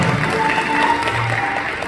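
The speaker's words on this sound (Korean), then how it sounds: "양가원님 인사 큰박수 부탁드립니다" Wedding guests applaud as the two families greet each other at a Korean wedding ceremony, a steady moderate wash of clapping with faint murmuring underneath for the short stretch.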